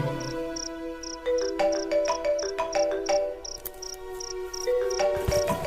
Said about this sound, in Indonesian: handphoneku berdering